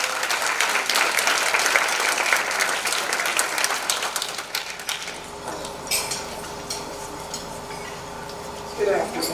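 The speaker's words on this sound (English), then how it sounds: "Give her a round of applause" Audience applause at a Mercy Manor welcome gathering, loud, dense clapping that gradually thins and tapers, leaving scattered claps and light clinks with some murmuring voices in the background.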